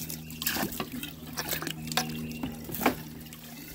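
A 1905 forward trap toilet flushes a washcloth down, the water rushing and gurgling through the bowl with a few drips and splashes at close range. A person speaks briefly over it.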